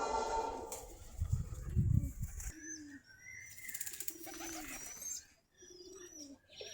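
Giribaz pigeons, a Bangladeshi breed, cooing in low soft bursts, with a loud rumbling handling noise early on and some higher chirps, nearby and no talk.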